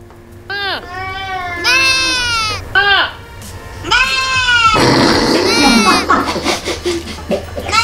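A person imitates a sheep's bleat in a series of wavering, nasal vocal bursts, loud and close. Laughter and chatter come in between the bleats and near the end.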